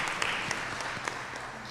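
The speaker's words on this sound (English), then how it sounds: "Let's give him a round of applause." A city meeting audience gives brief applause after a report on gun violence strategies, a soft wash of clapping with a few sharper individual claps standing out.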